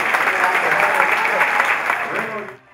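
Loud, dense applause from a gala audience in a theatre, a steady wash of clapping that holds strong and then fades out abruptly at the end.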